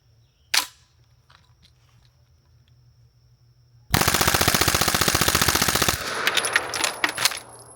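A rifle fires through a C4 Armory BBC (Bigger Blast Chamber) silencer: one sharp shot, then a quiet pause, then a long rapid string of evenly spaced suppressed shots, loud and close, trailing into metallic clinks and clatter.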